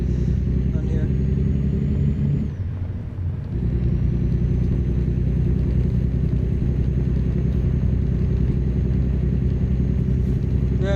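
Truck engine in American Truck Simulator, a loud, continuous low droning rumble that dips briefly mid-clip as the engine brake engages, then resumes steadily.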